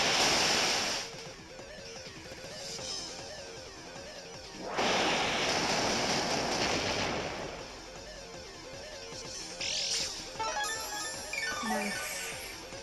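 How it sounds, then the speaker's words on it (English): Hydro Pump water attack in Pokemon X and Y, a loud rushing surge of water that swells, drops back, then returns with a second long gush and a few sharper splashing bursts near the end. "I am actually going to go for the Hydro Pump here"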